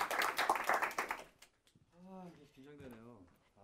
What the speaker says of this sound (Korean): 다시 한번 큰 박수 좀 부탁드리겠습니다